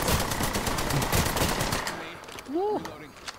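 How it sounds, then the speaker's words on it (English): Rapid automatic gunfire in the video game Apex Legends rattles loud and continuous for about two seconds, then stops as a voice briefly speaks. "there's still another one shooting at me"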